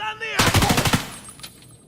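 Rapid burst of M4 rifle fire in a video game, about half a second of close, loud automatic shots, then fading echo and a faint high tone.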